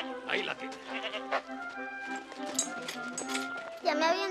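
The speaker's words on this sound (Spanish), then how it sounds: "Ya me habían dicho que las cabras estaban locas, pero esta parece de remate." A goat bleats repeatedly in loud, wavering cries, close by and overlapping with excited human voices.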